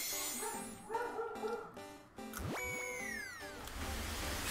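A dog barks and yips in several sharp bursts up close, followed by a rising whine or squeal, with game-like tones and background noise running underneath.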